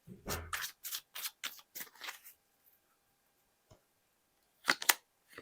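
Tarot cards being handled and drawn from a deck, a run of quick crisp card snaps and riffles close up, then a pause, a single faint tick, and one more short burst of card flicks.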